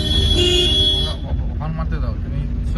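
A car horn toots during a driving lesson near Sahapur bridge in Malda, sounding briefly over engine and road traffic noise, with an instructor's voice talking alongside.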